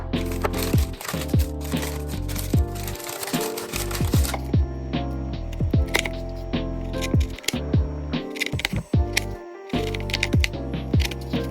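A knife cuts into a baked vegan dessert with a firm shortbread crust, making dense, close crunching, cracking and clicking sounds that run on almost continuously over a steady tonal background.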